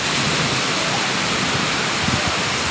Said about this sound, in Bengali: আপনাদের যদি এরকম বৃষ্টি খুব ভালো লেগে থাকে অবশ্যই কমেন্ট করে জানাবেন